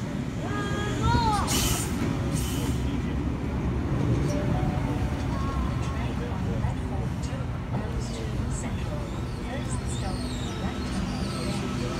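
A passenger train from Lithgow rumbles into a Sydney station platform, low steady roar with squealing brakes and metallic screeches overhead, while a voice talks over it.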